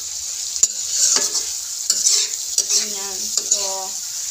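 Garlic butter shrimp is stirred in a frying pan, with a close, steady sizzle broken by repeated utensil clicks and scrapes against the pan. Someone speaks briefly over it.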